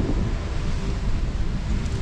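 Strong wind roars across a microphone on a snowy winter hike near Potash Mountain in the White Mountains, a dense, continuous rumble with no voices.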